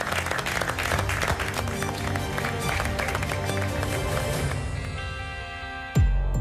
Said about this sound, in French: On peut applaudir Estelle Blumenthal.